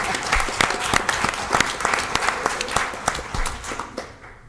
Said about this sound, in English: we'll applaud you as well